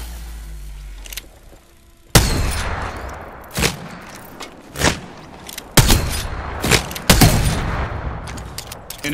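Gunfire in a shooting video game, a string of sharp, loud shots and heavier thumps spaced irregularly over several seconds, with booming impacts between quieter stretches.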